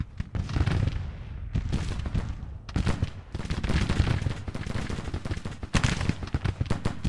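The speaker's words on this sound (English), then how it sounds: "This is an artillery battery under fire from 3 brigades of infantry" Infantry musket volleys from three brigades pour onto an artillery battery in Grand Tactician: The Civil War, a loud, continuous crackling fusillade with repeated surging bursts and booming cannon-like thumps, no talking.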